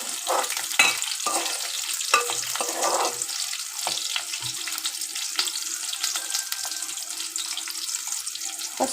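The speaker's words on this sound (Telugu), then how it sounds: "ఇప్పుడు మన ఉల్లిగడ్డ వేగిపోయింది ఎర్రగా" Onions frying until reddish-brown in a pan for a Telugu okra tamarind stew, a steady sizzle with intermittent stirring and scraping clicks close by, with no talking.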